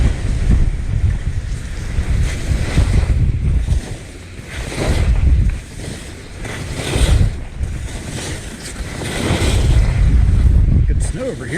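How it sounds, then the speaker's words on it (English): Strong gusts of around 60 mph on a Utah ski mountain roar and buffet the microphone in surging waves, rising and falling loudly, with voices talking at times. "We're dealing with 60-mile-an-hour gusts now"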